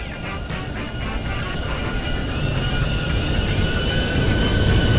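Boeing 737 landing replayed in the X-Plane flight simulator, a steady broadband jet engine roar with rushing air that swells gradually louder over the few seconds, continuous and close with no talking.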